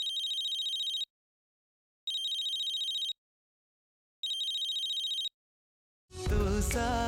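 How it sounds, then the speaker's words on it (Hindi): A telephone rings in three evenly spaced, bright bursts separated by silence, followed by a sudden burst of music. "हाँ कार्तिक, मेरा फोन है शायद, देना।"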